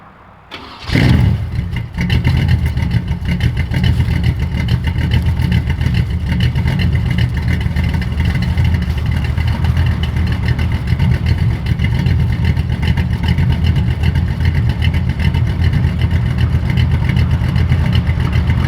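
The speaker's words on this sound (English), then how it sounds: "So let's hear what the old exhaust sound like on Iron Man." A car engine with its old exhaust, held together with aluminum clips, cranks and catches after a second, then runs loud and steady right at the tailpipe with no talk.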